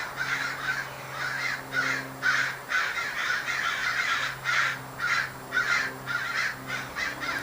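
Crows cawing repeatedly outdoors, harsh calls arriving in regular bursts over a faint steady hum, moderately loud and without any talking.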